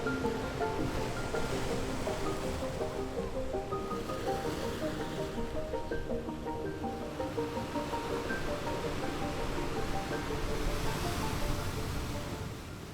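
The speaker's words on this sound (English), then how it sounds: "grab some nice footage of the road, the shoreline, and the waves rolling in from the north" Ocean waves roll onto a northern shoreline in North Iceland, a continuous washing roar with gentle surges and some wind buffeting the microphone, steady and fairly close.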